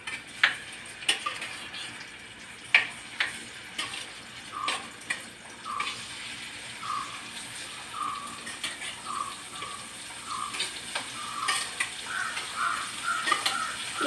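Oil frying in a pan on a home kitchen stove, a soft continuous sizzle broken by scattered pops and light clinks of a utensil, close and moderately loud, with no voices.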